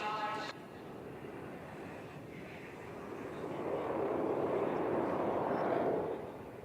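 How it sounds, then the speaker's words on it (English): An Indian Air Force aircraft makes a slow-speed pass at an air show over Chennai's Marina Beach, a broad distant engine roar that swells steadily and then eases slightly, with a voice briefly heard at the start. "Look as the aircraft effortlessly glides past you at a staggering speed of just"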